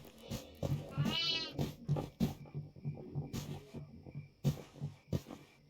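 A goat bleats in a video game, a wavering cry near the start followed by scattered short game sounds and thumps, with no talking over it.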